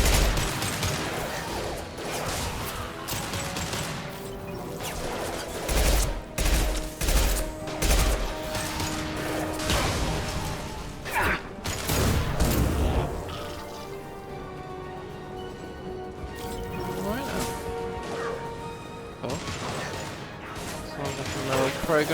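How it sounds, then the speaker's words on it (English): Combat in Mass Effect Legendary Edition brings bursts of weapon fire, concussive blasts and crashing impacts scattered unevenly over about twenty seconds, with voices talking over parts of it. "Firing concussive shot!"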